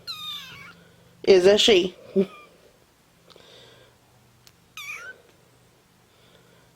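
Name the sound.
cat meowing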